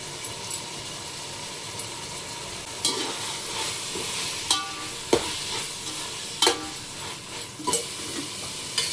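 Tomatoes, mint and coriander sauté in a pan for mutton biryani, with a steady close sizzle and repeated spatula scrapes and knocks at irregular intervals.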